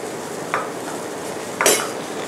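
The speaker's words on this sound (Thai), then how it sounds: "เราก็จะลวกในหม้อน้ำซุปนะคะเพื่อที่จะได้ความหวานเพิ่มขึ้นนะคะจากตัวเนื้อหมูด้วย" Pork slices and meatballs are blanched in a pot of soup broth for boat noodles, with a steady bubbling simmer and two brief clinks of a utensil against the pot.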